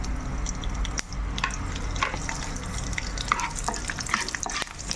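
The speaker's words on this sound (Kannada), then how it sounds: "ಈಗ ಎಣ್ಣೆ ಸ್ವಲ್ಪ ಕಾದ ನಂತರ ಬೆಳ್ಳುಳ್ಳಿಯನ್ನು ಹಾಕಿಕೊಂಡು ಕೊಳ್ಳಬೇಕು ಸುಲಿದುಕೊಂಡ ಬೆಳ್ಳುಳ್ಳಿಯನ್ನು ಹಾಕಿಕೊಳ್ಳಬೇಕು" Peeled garlic frying in hot oil for a dill leaves stir fry, with a steady, dense sizzle and crackle and occasional stirring scrapes, close and continuous with no talking.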